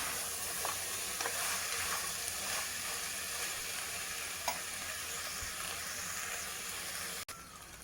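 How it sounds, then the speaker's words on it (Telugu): Ginger garlic paste frying in a pan for a goat-head curry, a continuous close sizzle with faint scraping of stirring and a brief clack near the end, no talking. "అల్లం వెల్లుల్లి పేస్ట్ వేసి కలబెట్టేస్తాను. ఇట్లా ఇది ఒక 2 నిమిషాలు అట్లా వేయించుకుందాం."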